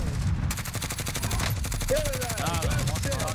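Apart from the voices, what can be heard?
gunfire and sniper shots in Call of Duty: Warzone video game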